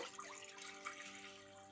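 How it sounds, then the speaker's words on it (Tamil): Water poured into a pot while making Nagercoil-style ada pradhaman, a steady quiet splashing stream that runs throughout without talk. "இப்போ வந்து இதில் வந்து தண்ணியை ஊற்றிடலாம்"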